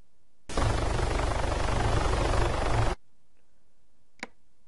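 A helicopter in the video game Arma 3 gives a loud, steady rotor and engine roar for about two and a half seconds, then cuts off abruptly, followed by silence and a single faint click.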